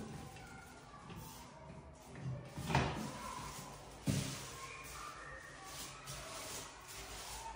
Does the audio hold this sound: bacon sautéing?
no